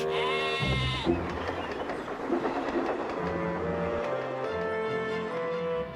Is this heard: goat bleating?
yes